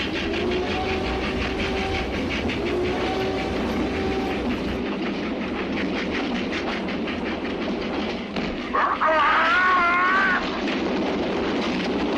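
A train in the western The Good, the Bad and the Ugly rolls along on its rails with a steady, loud rumbling clatter, and a brief high wavering cry rises over it near the end.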